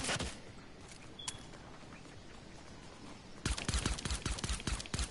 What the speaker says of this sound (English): I'm about to kill him with a soft pistol